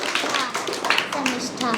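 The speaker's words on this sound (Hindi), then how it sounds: "ताली बजाओ।" Children in a storytelling session clap their hands together in a quick, dense burst, close by, with young voices mixed in.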